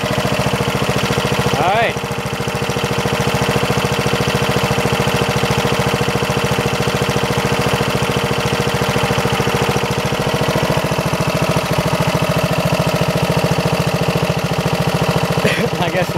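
A scrapyard Snapper riding lawn mower runs steadily with a loud, close, continuous engine drone throughout, and someone briefly speaks over it.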